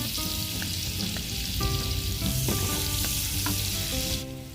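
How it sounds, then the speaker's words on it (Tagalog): Onion and garlic sauté in margarine in a hot pan for a pork dish, loud continuous sizzling with crackles and occasional stirring scrapes, close up and without speech. "Magigisa po tayo ng sibuyas at bawang."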